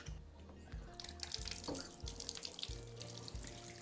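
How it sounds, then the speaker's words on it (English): A kitchen tap runs water into a sink for a rinse, a continuous splashing hiss with low hum beneath, moderately quiet and with no voices. "So initially when I turn the tap on, this is going to look really dirty, the water."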